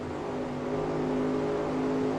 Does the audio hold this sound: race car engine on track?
yes